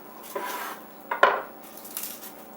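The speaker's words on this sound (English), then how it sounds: "I take the garlic clove and I cut it directly in half" A knife slicing a garlic clove in half on a board, a few quick close taps and a sharp cut, clean and isolated with no voices.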